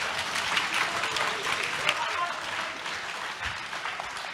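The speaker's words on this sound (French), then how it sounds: "effectivement, on peut vous applaudir." An audience at a youth event in Bordeaux claps steadily and warmly for several seconds, with faint voices mixed into the applause.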